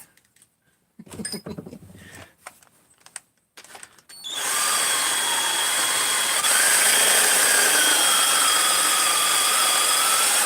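After a few quiet clicks and handling noises, a drill spins an external deburring tool on a workpiece wet with cutting fluid, first with a steady low-RPM whine, then stepping up to a louder, higher-pitched whir at high RPM.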